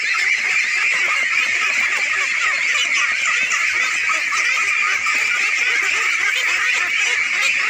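A dense flock of farmed ducks on a village pond in Bangladesh, hundreds calling at once in a continuous loud, steady chorus of overlapping honking quacks with no pauses.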